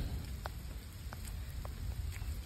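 Light rain falling steadily outdoors, a soft continuous patter with a few sharper drops landing now and then, no talking.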